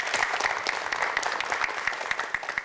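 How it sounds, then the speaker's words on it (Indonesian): A studio audience of a live Indonesian TV show claps steadily for a short stretch, dense applause with no talking over it. "Tepuk tangan buat Anda semuanya."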